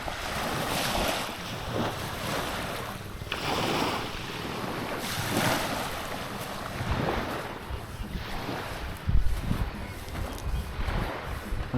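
Waves wash and surge repeatedly against the seaside shore at Pantukan, Davao de Oro, in rolling swells, mixed with gusty wind buffeting the microphone.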